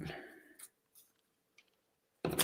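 Scissors snip a paper straw in half in a few short, crisp cuts spaced apart in a quiet room. Brief talk opens the passage and a louder rustle or clatter closes it.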